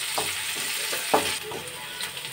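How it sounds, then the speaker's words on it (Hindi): Onions sizzling in a hot pan for a potato and greens dish, a steady frying crackle with a few soft clinks of stirring, close and alone. "अब इसमें प्याज डाल दूँगी इसको हम थोड़ा सा फ्राई होने देते हैं"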